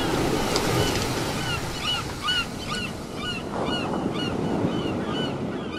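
Ocean waves wash continuously onto a sandy beach, a broad steady rush of surf with light wind and faint bird cries above it.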